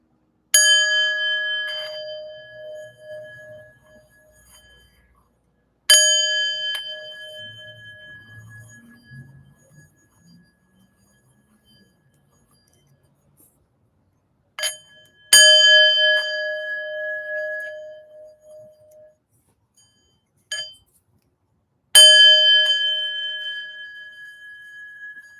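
A singing bowl struck for sound healing, five separate ringing strikes spaced several seconds apart, each shimmering and slowly decaying, close and clear with faint murmuring between.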